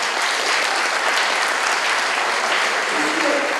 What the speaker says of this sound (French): je vais vous demander voilà, d'applaudir énormément notre deuxième invité